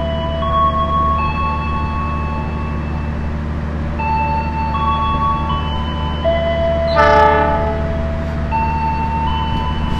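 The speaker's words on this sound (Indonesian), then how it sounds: "Kereta api Argo Bromo Anggrek sudah mulai terlihat." The Argo Bromo Anggrek express passenger train rumbles steadily close by, its low roar continuous, with a loud horn blast sounding partway through.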